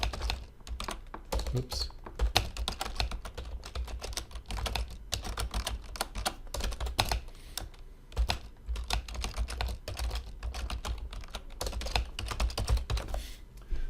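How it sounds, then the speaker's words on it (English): Rapid, continuous typing on a computer keyboard, close and clear with steady irregular key clicks; a voice briefly speaks once. "let me type in a sentence or two."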